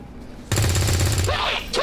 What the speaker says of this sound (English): Guess I'll just shoot them.